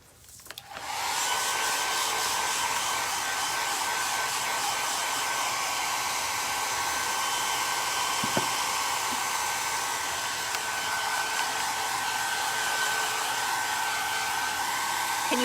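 A hair dryer blows steadily on matte sealer, switching on and then roaring as a loud, continuous whir close by with no pauses.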